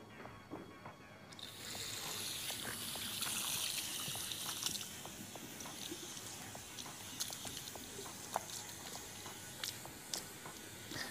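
Water rinses product out of fine hair at a salon basin, a steady close spray beginning after a brief pause, with faint irregular splashes and drips through the rest.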